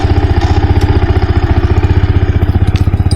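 Yamaha R15 sport motorcycle engine idling close by, a steady, loud and even pulsing throb that holds its rhythm throughout with no voices over it.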